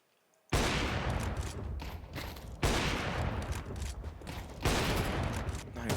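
Heavy gunfire crackles in Counter-Strike during a StarLadder Budapest Major 2025 match, with three loud sustained bursts of shots separated by brief dips and no talk over them.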